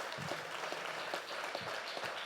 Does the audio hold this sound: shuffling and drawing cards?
no